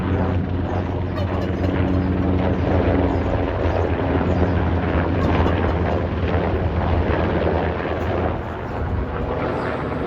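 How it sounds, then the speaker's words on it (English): Military helicopters flying low overhead near a naval base, a loud, steady rotor roar with deep throbbing that fills the whole stretch and dips slightly near the end. "The military copters."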